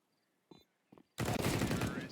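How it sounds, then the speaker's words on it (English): Sustained burst of automatic rifle fire from an M4A4 in a Counter-Strike match, loud and dense for about a second, preceded by two short, sharp sounds. "And the Mango is taking down the Roju, so that's the 6th round for the Kony Sports team"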